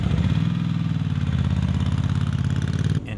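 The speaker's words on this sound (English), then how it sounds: "kickstart their vintage bikes, or get a little help from a friend, then shift into gear" A vintage Norton motorcycle engine idles steadily at close range with a throbbing, even low-pitched pulse and mechanical clatter, then cuts off abruptly near the end.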